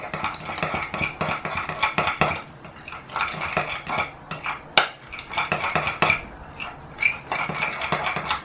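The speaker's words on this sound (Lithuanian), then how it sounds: "Gerai išmaišom." Spoon clinks and scrapes as broccoli salad is stirred with sour cream and mustard in a bowl, a steady run of close, busy clatter.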